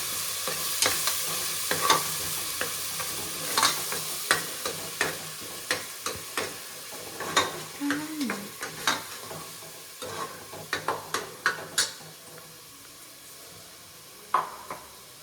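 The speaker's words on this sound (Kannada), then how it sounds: "ಇದು ಹಸಿ ವಾಸನೆ ಹೋಗೋ ಗಂಟ ಹುರ್ಕೋಬೇಕು." Spice paste frying in a pan hisses softly and steadily, close by, while a utensil scrapes and stirs in frequent sharp, irregular clinks and strokes against the pan.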